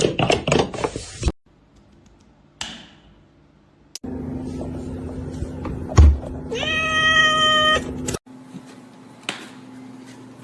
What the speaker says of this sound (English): He's a male. He's a very loving cat.